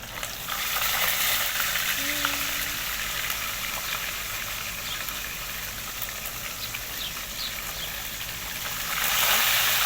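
Tilapia frying in a pan outdoors, a dense, steady crackling sizzle close by with faint background sounds, swelling a little louder near the end; no talk.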